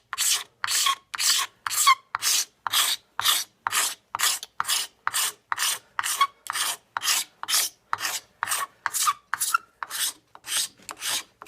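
A knife blade scrapes old finish off a wooden gun stock in a steady rhythm of about twenty-five rasping strokes, each close and loud, with short pauses between, and no voices.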